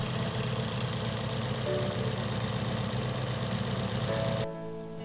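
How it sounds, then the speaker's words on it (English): A Toyota Yaris track car with a 1ZZ engine and a check engine light idles loudly and unevenly, a rough, pulsing drone up close that drops abruptly to a quieter hum near the end. "the engine didn't sound all that happy"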